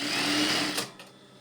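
A sewing machine stitching the folded hem of a bedspread runs in a fast steady whir up close, then slows and stops after about a second.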